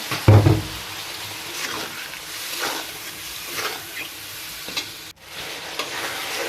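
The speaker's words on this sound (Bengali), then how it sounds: "দিয়ে জিরে আদা বাটাটা বেটে রেখেছিলাম ঢেলে দিলাম, দিয়ে ভালো করে কষিয়ে নেব।" Cumin and ginger paste frying in oil while being stirred, with a steady close sizzle broken by several scraping stirs and a thump near the start, no talking.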